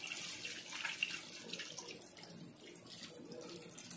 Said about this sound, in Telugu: 2 గ్లాసెస్ వాటర్ వేసుకోవాలి.